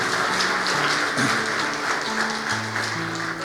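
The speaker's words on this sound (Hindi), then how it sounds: "जोरदार तालियों में।" A church congregation claps at a child's dedication service, a steady dense patter of many hands sustained for a few seconds, with a sustained keyboard tone underneath.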